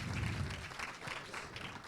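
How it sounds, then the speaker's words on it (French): Audience at a live show in a Lorient cinema applauds a participant, a brief burst of clapping with low thumps that continues steadily and fairly close. "Bien joué, bravo, on peut l'applaudir"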